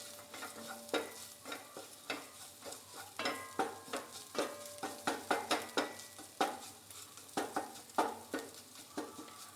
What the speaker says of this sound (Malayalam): ലോ ഫ്ലെയിമിലിട്ട് നമ്മൾ പതുക്കെ ഇതൊന്ന് വറുത്ത് അതൊന്ന് ഒരു കരികരിപ്പാകുന്നിടം വരെ ഒന്ന് വറുത്തെടുത്താൽ മതിയാകും